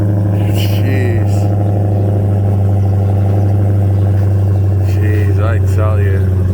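A Dodge Challenger SRT Hellcat with stock exhaust idles after a cold startup, a loud, deep, steady rumble held close throughout while brief voices or chirps break in over it.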